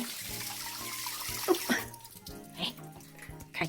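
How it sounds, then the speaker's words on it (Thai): Water runs steadily from a tap left on in a women's restroom with washbasins at a national park campsite, a continuous hiss beneath faint background voices and a few clunks. "เหมือนมีคนเปิดน้ำทิ้งไว้แน่ ๆ เลย"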